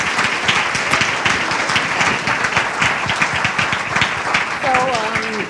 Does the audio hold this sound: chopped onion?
no